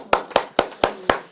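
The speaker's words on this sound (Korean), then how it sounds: "박수!" Five sharp, evenly spaced hand claps, close and loud, from an audience at a senior welfare center lecture applauding a 98-year-old attendee.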